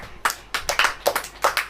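A church congregation claps during a sermon in a series of separate loud bursts, roughly six distinct hand claps in an uneven rhythm, close and clear with no talking over them.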